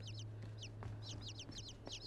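Birds in the video game INSIDE give a series of short, chirpy clucking calls in quick irregular bursts over a low steady hum, fairly faint, with no voices.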